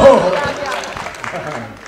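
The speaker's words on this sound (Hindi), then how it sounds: "तो बजाओ सारे एक बार जोर से ताली" A college crowd at a Hindi comedy poetry gathering (kavi sammelan) breaks into dense, loud applause that fills the short moment, mixed with voices and cheering.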